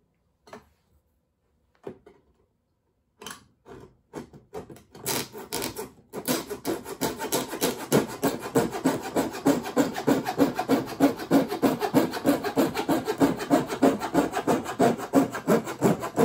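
A hand saw cuts through a piece of wood, beginning with a few separate tentative strokes and then settling into a fast, continuous run of loud rasping strokes up close.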